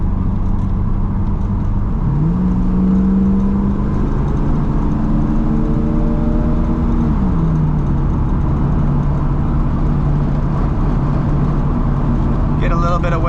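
A car engine hums loudly inside the cabin as the throttle is eased on, the pitch rising gradually, holding, then settling over steady road rumble.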